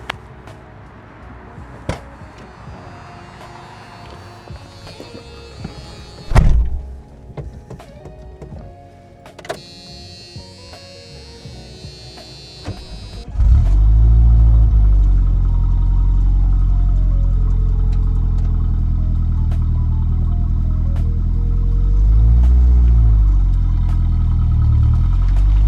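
A 1987 Dodge Shelby Charger with the turbocharged 2.2 engine and manual gearbox, heard first as a few clicks and electric whines in the cabin, then the engine starting and settling into a steady, close idle rumble.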